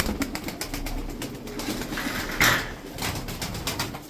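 Resasi tumbler pigeons kept for sale, with soft cooing and a brief burst of wing flapping midway over a quiet background of light knocks and rustling.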